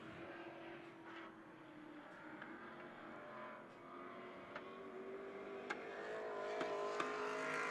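Bomber-class race cars growl faintly at a distance on the Stockton dirt track, and a few sharp backfire pops crack out over the engine drone.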